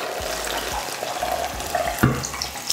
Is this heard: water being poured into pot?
yes